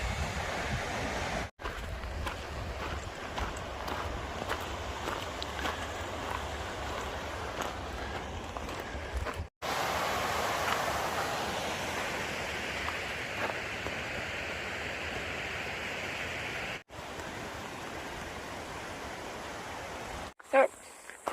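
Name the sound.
water rushing down a rocky natural water slide on the trail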